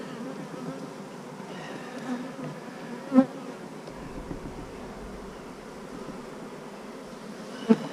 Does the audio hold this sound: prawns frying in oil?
no